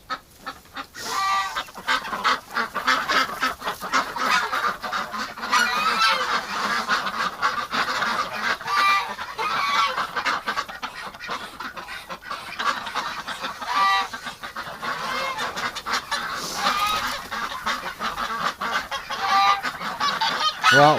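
Geese in a winter pen honk repeatedly and loudly, a busy overlapping chorus of nasal calls with a few duck-like quacks mixed in, close by and continuous.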